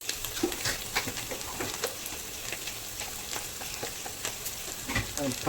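Green chilies sizzling and frying in hot oil while being stirred for a mango pickle, a steady crackling hiss with scattered pops and scraping stir sounds throughout.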